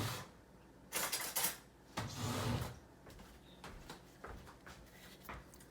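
A spoon fetched from a drawer in a home kitchen while a chicken tagine is prepared: a couple of sharp bursts of cutlery and drawer clatter, fairly close, followed by lighter scattered clinks and knocks, with no talk.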